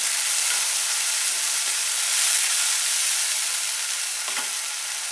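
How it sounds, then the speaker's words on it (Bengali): Onion frying in oil with ginger, garlic and green chilli paste for Bengali egg paturi, a loud, dense, steady hiss of sizzling that barely changes, with one faint stir near the end. "পেঁয়াজটাকে একটু হালকা ব্রাউন করে আমি ফ্রাই করে নিচ্ছি"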